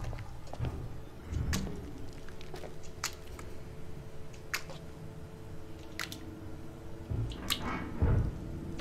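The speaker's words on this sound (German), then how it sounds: "Das tropft einfach durch einen durch" Water dripping in Alien: Isolation, with scattered single drips that land one at a time at uneven intervals over a low, steady ambient hum, some splashing louder and closer than others.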